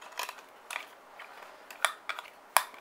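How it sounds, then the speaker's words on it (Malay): A Naturehike waterproof camping lantern being screwed onto a tripod stand, making faint, close clicking and scraping taps in a few short uneven clusters against a quiet background. "kita boleh skru dia masuk bawah ni"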